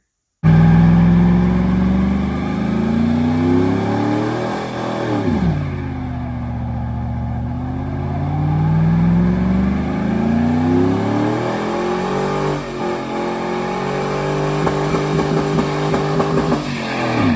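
A GMC Sierra pickup truck engine revs hard and continuously during a burnout, pitch rising and falling through repeated throttle bursts, with a loud, sustained roar and no talking.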